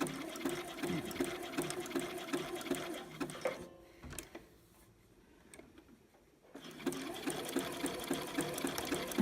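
A sewing machine stitches stretch lace in fast rhythmic runs, pauses for about three seconds with only faint handling noise, then resumes its even whirring clatter, close and fairly quiet.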